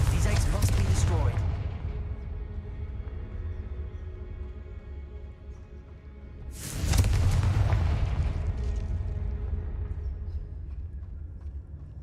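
Fiery blasts of the Confringo spell in Hogwarts Legacy, fired at eggs: a loud booming explosion with a long rumbling decay, then a second big burst midway, over constant game ambience.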